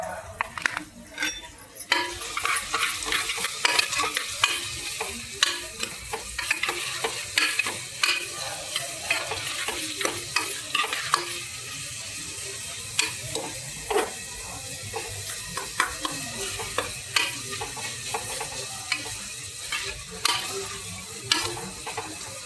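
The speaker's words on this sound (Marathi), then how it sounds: "मस्त एकदम कांदा परतून घेऊ" Chopped onion sautéing in a pan gives a continuous sizzle with repeated scraping and clattering stirs of a utensil against the metal, fairly close and busy throughout.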